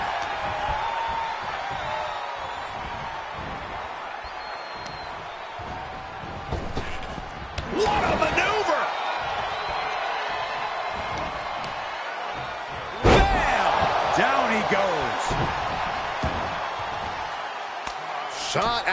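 Pro wrestlers trade forearm shots and slam an opponent face-down in a televised 1982 match, with heavy thuds against ongoing crowd noise and a commentator talking over the action.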